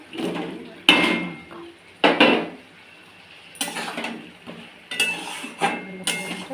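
A metal lid clanks onto a pot of katla fish curry in a Bengali kitchen, with several distinct knocks and rattles spaced through the clip over a faint background hiss.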